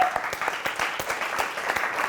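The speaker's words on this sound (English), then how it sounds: "So a round of applause to you" A crowd applauding steadily, dense overlapping claps throughout at an even, moderately loud level.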